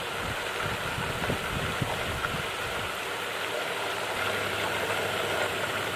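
Butter boiling and frothing in a pan while being cooked down into homemade ghee, giving a steady, dense crackling sizzle that holds at an even level throughout with no talking.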